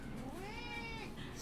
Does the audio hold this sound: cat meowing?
yes